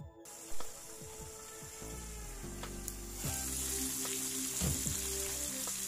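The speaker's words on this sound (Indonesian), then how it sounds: "Ini akan saya masak sampai cabenya matang ya." Chili peppers fry in a covered pan on a stovetop, giving a steady close sizzle and crackle that swells louder partway through, with a few faint clicks and no voices.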